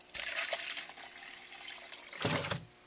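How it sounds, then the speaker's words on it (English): Water poured into a peat-based soil-block mix for seed starting, heard as two brief splashing, trickling pours, the second one louder and fuller. "I think I want just a little bit more water in there."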